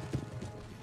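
Dari horsemen's horses in Empire Total War pound along in a brief, faint burst of hoofbeats, a soft clattering gallop heard alone for under a second.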